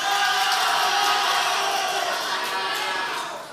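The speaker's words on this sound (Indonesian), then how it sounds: "kami silakan kepada pendukung paslon nomor urut 1 untuk memberikan tepuk tangan kepada paslon" Supporters of a candidate pair cheering and clapping at a live regency election debate in Indragiri Hulu, a loud dense crowd roar with shouts and whoops that stays high before easing slightly at the end.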